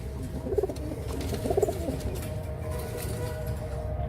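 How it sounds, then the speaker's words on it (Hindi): Pet pigeons coo at close range, two soft rolling coo phrases over steady low background noise. "ये मेरे कबूतर हैं दोस्तों।"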